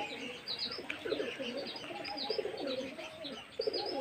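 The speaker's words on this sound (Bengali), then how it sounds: "দেখুন পায়রা উঠছে, দেখুন চালটা দেখুন।" Pigeons around a rooftop loft on a hot day, soft cooing and scattered chirps in bursts close by, with faint traces of wing movement.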